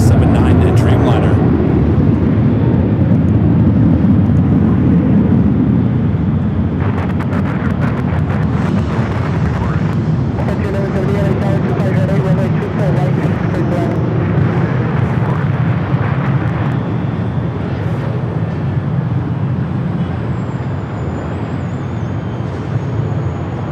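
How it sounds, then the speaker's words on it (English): A Japan Airlines Boeing 787-9 Dreamliner departing LAX for Tokyo Narita sends out a loud, sustained engine roar that gradually eases over time, with wind buffeting and a voice talking over it. "Japan Airlines Dreamliner. Flight heading to Tokyo Narita, flight 61, a 787-9 Dreamliner."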